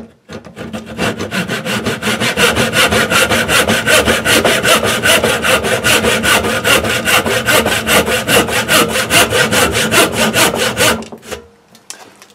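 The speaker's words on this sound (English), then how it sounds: "Take your saw, find the halfway point, and cut in a line probably 3/4 of an inch to an inch deep" Close hand saw cutting a slot into a cordage jig, a long run of fast, even back-and-forth strokes rasping loudly for about ten seconds before stopping, with a few faint handling sounds after.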